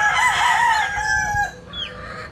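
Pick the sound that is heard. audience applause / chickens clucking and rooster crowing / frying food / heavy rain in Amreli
chickens clucking and rooster crowing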